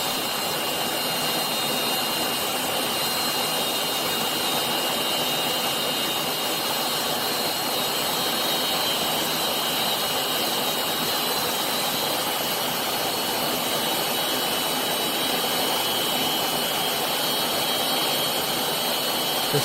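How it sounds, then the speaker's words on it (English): A T53 turbine engine for rotary-wing aircraft runs with a loud, steady jet roar and sustained high-pitched whine, close and unbroken, with no voices. "The startup sequence showcases the powerful ignition of the turbine, smooth acceleration, and the distinctive high-pitched whine of the jet engine"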